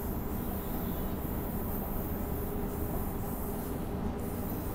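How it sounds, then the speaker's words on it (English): A Perth to Claremont passenger train runs with a steady, even rumble and rolling wheel noise from start to finish, with no voices. "This train runs from Perth to Claremont, stopping at all stations."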